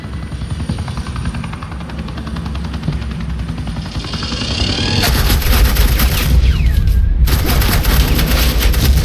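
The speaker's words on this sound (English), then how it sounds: "suppressing fire" Suppressing gunfire in the Telltale Batman: The Enemy Within video game, dense rapid bursts that swell loud over a constant helicopter-like rotor drone, ending in sustained crackling fire.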